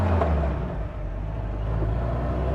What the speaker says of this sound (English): let's take this thing for a drive and see how she runs